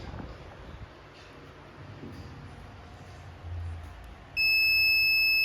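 Quiet handling noises and faint rustling, then a loud continuous multimeter continuity beep from a shorted microwave capacitor starts abruptly near the end and holds.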